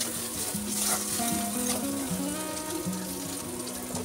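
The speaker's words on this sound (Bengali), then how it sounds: "হালকা করে একটু ভেজে নেব যাতে ফুলকপির হালকানি গন্ধটা না আসে" Cauliflower frying in a pan for Mumbai-style pav bhaji gives a steady, close sizzle with occasional stirring scrapes, and it continues without a break throughout.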